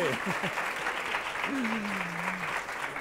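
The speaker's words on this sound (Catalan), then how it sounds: "doncs aplaudim a la Paula també" A studio audience at a Catalan TV word-game show claps for a contestant, a thick, continuous wash of applause while a voice speaks briefly over it.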